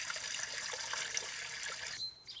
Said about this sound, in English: I'm just putting about a gallon of water up in here.